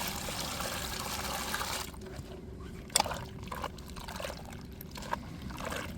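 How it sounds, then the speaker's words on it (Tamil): Water poured over rice flour dough to rinse it, a loud gushing pour at first that falls to quieter trickling and a few light splashes. "நம்ம தண்ணியை ஊற்றி அலச வேண்டியதான்."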